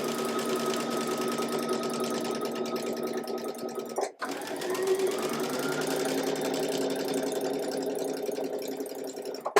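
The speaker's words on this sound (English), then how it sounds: "Now we're just going to stitch on that line." A sewing machine stitches quilt fabric along a marked line for a dotted tulip quilt block, giving a steady, close mechanical whir that runs almost without a break, with only a brief stop partway through.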